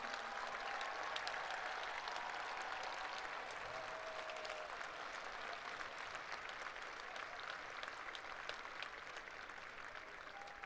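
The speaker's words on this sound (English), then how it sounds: "A big round of applause," A graduation audience at a high school ceremony breaks into sustained, dense applause, steady and even throughout with no break.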